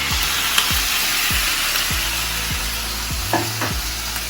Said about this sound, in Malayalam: ഇങ്ങനെ ക്യൂബ്സ് ആയിട്ട് കട്ട് ചെയ്ത് വെച്ചിട്ടുള്ള ബോൺലെസ് ചിക്കൻ അതിലേക്ക് ഇടുക